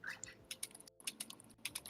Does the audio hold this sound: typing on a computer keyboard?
yes